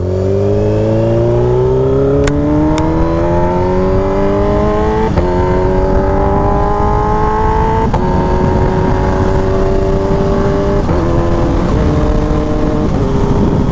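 A Kawasaki H2 motorcycle accelerates hard while ridden, its engine whine climbing steeply through several gears with quick shift breaks, loud and close over steady wind rush.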